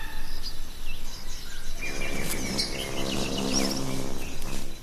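Bird chirps and tweets around a sicklebill feeding at heliconia flowers, steady high calls over a dense insect-like buzz, loud and close throughout.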